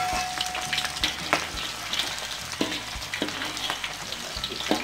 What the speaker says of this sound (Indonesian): Kita goreng goreng, masukkan terus, kita goreng terus.